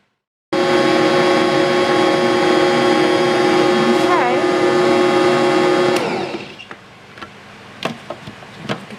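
An electric mixer churns kitchen sink cookie dough with a loud, steady whirring drone that holds for several seconds, then shuts off abruptly, leaving faint clinks and soft handling noises.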